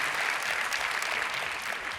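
An audience at a SXSW 2023 talk breaks into steady, close applause, a dense crackle of many hands clapping with no voices over it.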